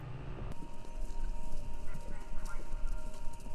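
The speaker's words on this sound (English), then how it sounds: "Sounds like horses." Horse hooves clip-clop in the Kentucky Route Zero video game, a loud, steady, close clatter of steps after a sudden start, with faint bird-like calls mixed in.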